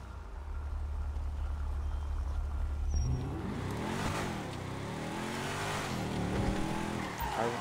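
A Coil Brawler off-road car in GTA V idles with a low rumble, then the engine revs up and the car accelerates, whining and rising in pitch with surges and some tire scrabbling, fairly close.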